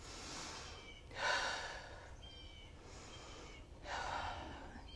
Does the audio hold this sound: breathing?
yes